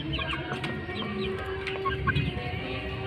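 Clucks and soft calls from a mother hen and her two-week-old chicks in a coop, near and continuous, with scattered higher peeps over a low farmyard background.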